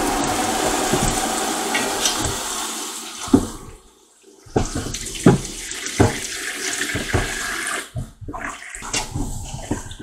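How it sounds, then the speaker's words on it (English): Water from a kitchen tap runs into a pot for canning sweet potatoes, a steady gushing fill with a few clunks and a brief pause partway through, close and loud, no talk. "we're going to fill it up with water"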